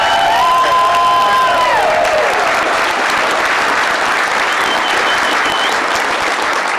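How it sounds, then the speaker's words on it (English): A large crowd at a Louisiana election-night event claps and cheers loudly and continuously, with whoops and raised voices mixed into the steady wall of applause. "Please give him another round of applause."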